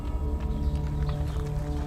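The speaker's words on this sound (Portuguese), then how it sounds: "deixando atrás o som das ferraduras cortando o chão seco" Hooves of a ridden horse clip-clop on dry ground in a steady, close, continuous rhythm, with no voices over it.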